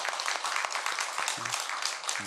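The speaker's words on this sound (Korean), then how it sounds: "우리 다시 한번 박수 한번" A church congregation claps in a brief, brisk burst, the individual claps close and distinct over a lively texture, with a couple of low voice fragments underneath.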